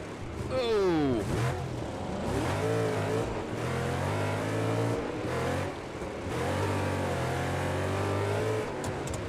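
Race cars in a racing video game rev and accelerate around a rallycross circuit. The engine whine rises and falls through sweeping pitch changes, loud and continuous, with a voice talking briefly over it.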